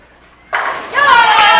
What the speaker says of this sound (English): Oscar is back on track in the 6th with a strike.